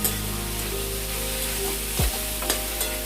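Boiled banana flower and potato curry sautés with spices in a pan, a steady close sizzle with occasional stirring scrapes and a short knock midway, no talking.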